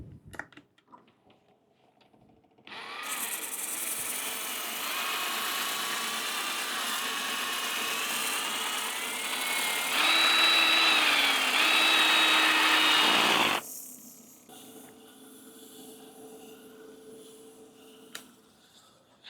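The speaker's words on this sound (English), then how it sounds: "I just wet sand my once turned green bowls to 320" A lathe spins a green, once-turned walnut bowl during wet sanding, a loud sustained whirring hum with a steady whine that starts abruptly, shifts pitch partway through, then cuts off, leaving faint bench noises and no speech.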